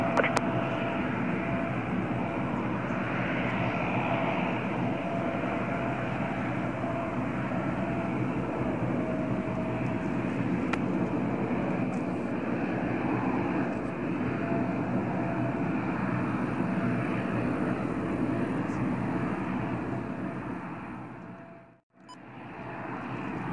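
A small propeller plane lands at Calgary's YYC airport, a steady broadband engine drone holding for about twenty seconds before dipping briefly near the end, with no talk over it.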